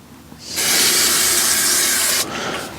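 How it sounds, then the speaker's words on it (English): A can of spray mount adhesive releases one loud, close hiss lasting about two seconds, with a short softer spray trailing after it. "bit of spray mount on the other piece"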